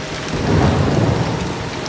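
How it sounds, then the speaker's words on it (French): Heavy rain with a low rumble of thunder swelling and fading over two seconds, a close, dense downpour with no voices. "ces nuages donnent de la pluie"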